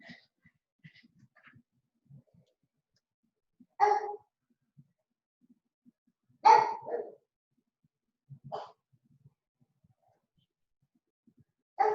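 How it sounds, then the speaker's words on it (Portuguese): A dog barks several times during a home-office lesson. The barks come as single or double yaps spaced a few seconds apart and sound moderately distant, with quiet stillness in between. "Sempre tem um cachorro aqui nos agraciando com uma latida"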